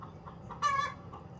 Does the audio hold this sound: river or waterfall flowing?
no